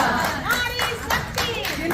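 Applause from a seated audience at an International Women's Day ceremony honouring women, steady clapping running through the whole moment with a layer of overlapping voices and murmur.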